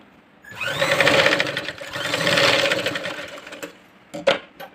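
A sewing machine stitches a princess-cut jacket with a rapid, whirring stitch in two close runs, then a short pause before a brief final burst.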